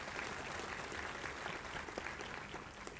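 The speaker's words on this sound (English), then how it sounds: "give you a huge round of applause because this is a big milestone in your life" Convocation audience at a Great Lakes Gurgaon graduation ceremony applauds the graduates with dense, sustained clapping that fills the hall at steady loudness throughout.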